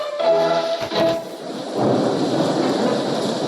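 Heavy rain and rumbling thunder in the Roblox game Escape Evil Headmaster, set in a flooded school; a steady loud downpour follows a brief tonal game sound at the start.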